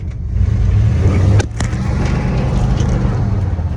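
A car engine roars as its tires spin, a loud, sustained drone with a brief break partway through before the revving resumes close by.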